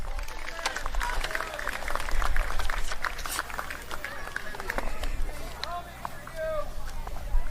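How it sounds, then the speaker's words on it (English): Spectators at a USA BMX national race in New England applaud for riders who crashed, scattered clapping and crowd noise outdoors, with an announcer talking over it. "how about a round of applause for our down riders"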